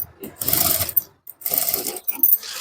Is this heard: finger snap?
no